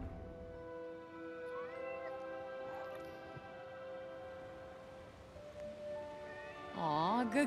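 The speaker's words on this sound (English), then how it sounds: "Aw, good kitty." A cat meows in the video game Forspoken, one long rising yowl heard clearly amid sustained droning game music, ending in a louder wavering cry near the close.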